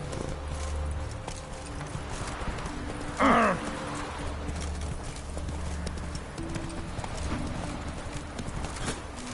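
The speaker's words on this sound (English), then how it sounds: "Run, Roach" Steady clip-clop of a galloping horse in The Witcher III: Wild Hunt, rhythmic hoofbeats throughout with a brief neigh about a third of the way in.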